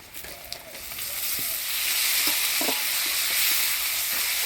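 Tomatoes go into a hot pan of oil with onion and garlic for a rita fish curry, and a broad sizzle rises and holds steady, close and fairly loud, with a few small clinks and scrapes early on.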